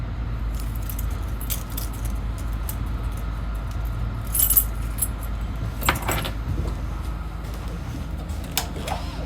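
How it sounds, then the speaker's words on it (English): Light metallic jingling of keys for a 2022 Jayco Jay Flight SLX8 284BHS travel trailer comes in brief clusters over a steady low background hum, with a few sharper clinks along the way. "you have keys for your main doors and an outside shower"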